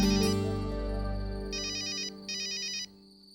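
A phone ringtone plays loudly, a melodic tune giving way to two bursts of bright electronic trilling ringing, with no talking over it.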